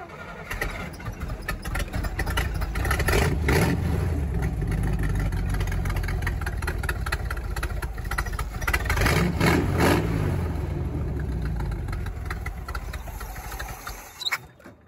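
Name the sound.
Jeep CJ5 engine with Quadrajet carburetor starting and idling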